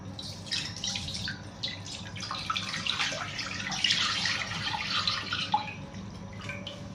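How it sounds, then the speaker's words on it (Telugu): About one and a half litres of water pours steadily into a cooking pot on a lit stove, a continuous splashing hiss that swells and churns for several seconds with no voices. "వాటర్ వేస్తున్నాను"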